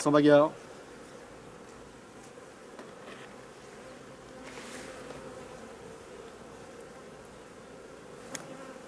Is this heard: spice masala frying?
no